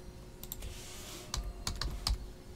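Quick bursts of typing on a computer keyboard, clusters of close, crisp key clacks with short pauses between them, set against a faint room hum and with no voices.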